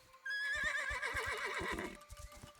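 A horse whinnies in The Legend of Zelda: Echoes of Wisdom, one loud, wavering neigh of about one and a half seconds over soft clip-clop hoofbeats that continue briefly after it fades.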